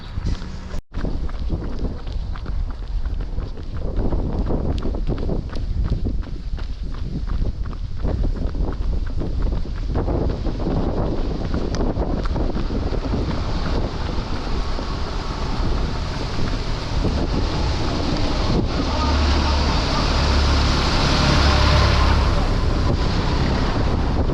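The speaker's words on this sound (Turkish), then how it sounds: "biraz rüzgar var" Strong wind buffets the microphone on a boat near Avşa island, a rough, gusting roar that swells louder toward the end, with water and boat noise underneath.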